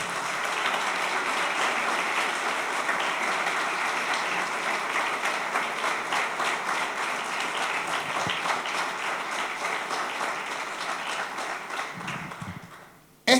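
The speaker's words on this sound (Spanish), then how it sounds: "Denle un aplauso al Señor" A church congregation claps in praise to the Lord, sustained rhythmic applause filling the room for about twelve seconds before fading out, followed by a brief thump at the very end.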